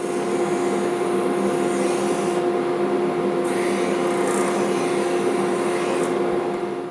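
A disc sander spinning counterclockwise grinds against wood with a steady whirring hum and rough scraping texture, close and continuous throughout, with no talk.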